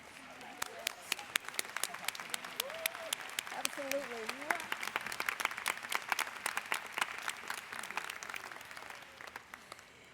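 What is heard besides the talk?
audience applause at a public meeting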